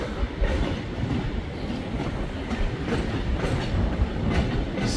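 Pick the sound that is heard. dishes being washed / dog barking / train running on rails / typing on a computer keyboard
train running on rails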